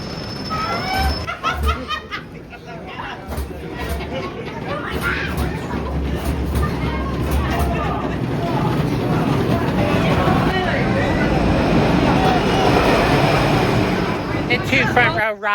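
Front-row ride on Oscar's Wacky Taxi roller coaster at Sesame Place during the Christmas season: a rattling, rumbling track roar builds and stays loud, with riders laughing and chattering throughout.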